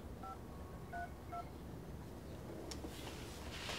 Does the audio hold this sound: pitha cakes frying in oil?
no